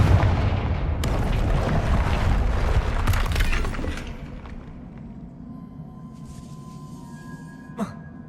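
A Confringo blast spell fires in Hogwarts Legacy: a loud broadband burst with crackling debris and low rumble that fades over several seconds, ending with a brief sharp crack.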